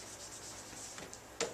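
A pen writing music notation on paper, a soft continuous scratching and rubbing close by, with one slightly louder tap or stroke near the end and no speech.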